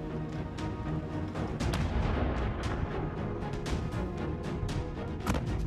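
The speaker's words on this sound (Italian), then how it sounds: "L'artiglieria bersaglia le difese esterne della città" Distant, repeated artillery fire shelling the outer defenses of Leningrad in September during the Second World War, with irregular muffled booms and cracks over a steady rumble, heard alone without talk.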